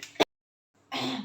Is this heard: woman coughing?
yes